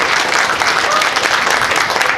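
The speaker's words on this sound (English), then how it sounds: "Let's please hold our applause" Audience applause fills a US Senate candidate debate hosted by a conservative group, dense and steady clapping throughout at close range.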